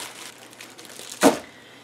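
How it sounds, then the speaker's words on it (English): A plastic bag crinkles once sharply as a ring of venison pork sausage is slid inside, preceded by faint soft rustling. "I'm just gonna slide that ring of sausage right in that bag"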